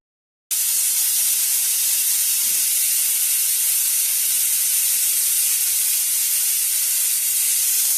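Pressure cooker with mutton inside venting steam, a loud sustained hiss that bursts in abruptly after a brief silence and holds steady to the end, close and alone.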